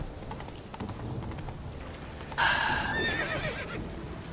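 Roach, the horse in the video game The Witcher 3, lets out a loud, shrill neigh partway through. Rhythmic hoof clip-clops run beneath it from the start.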